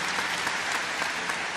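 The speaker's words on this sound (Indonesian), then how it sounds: "beri tepuk tangan untuk Tuhan Yesus." A church congregation claps in praise during a sermon, a short burst of dense, even applause from many hands.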